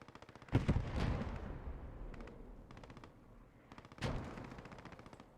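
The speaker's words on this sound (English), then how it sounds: "We've got some fire being exchanged here." Gunfire exchange in the WWII game Post Scriptum, with rattling machine-gun bursts and heavy shots at moderate distance, two louder booming impacts punctuating the crackling fire, no speech.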